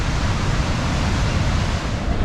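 Niagara Falls' American Falls in New York pours a heavy volume of water, a dense, steady roar that fills the whole stretch with no let-up and no voices.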